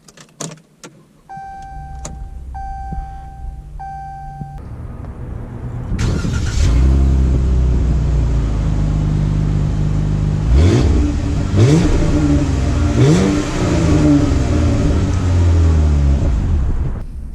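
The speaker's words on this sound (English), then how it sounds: "let's take the Warlock out for a quick drive" A 2019 Ram 1500 Warlock pickup starts up with a chime and beeps, then its engine rumbles loud and close as it pulls away, revving through gear changes under steady road noise.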